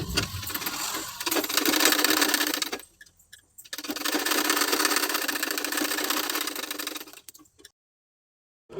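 A sewing machine runs in two long, steady bursts while stitching lining onto sleeve fabric, loud and close, with a short pause between bursts and silence at the end.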